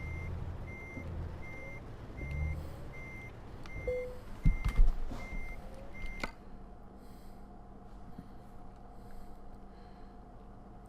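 In Euro Truck Simulator 2, a Volvo FH truck reverses under a trailer, with a steady series of reversing beeps over a low engine rumble and a brief mechanical clunk partway through.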